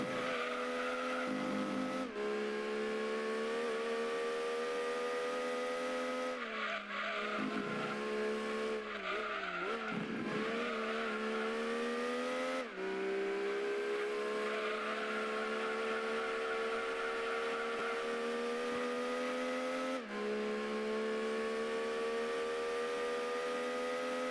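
A Mazda MX-5 Miata races a lap in Gran Turismo 2, its engine droning loudly and steadily, pitch rising through the gears with brief dips at each shift and some tire squeal in the corners, continuous with no talk.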